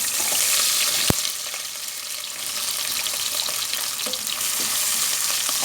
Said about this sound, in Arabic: السمنه عندي خلاص اهيت. هنزل بالبصل بتاعي الاول